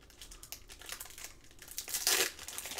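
Foil-wrapped trading card booster pack sealed with stubborn glue being pulled and torn open by hand, a crinkly, tearing rustle building to a louder rip near the end, close and alone.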